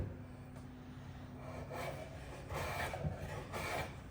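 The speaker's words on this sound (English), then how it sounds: "So I'm going to start planing this way." A hand plane is pushed along a wooden board in repeated strokes, each a faint, soft rasping swish, with several passes spaced about a second apart against a quiet background.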